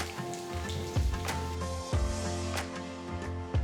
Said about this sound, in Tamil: 3 பச்சை மிளகாய் 2ஆக கீறி சேர்த்து வெங்காயம் நல்ல பொன்னிறமாகிற வரைக்கும் வதக்கணும்.